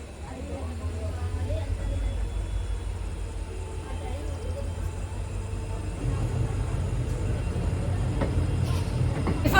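A diesel-hauled passenger train rolls toward Hosapete junction, with a steady low engine drone and rail rumble that swells louder near the end, heard from on board with people talking.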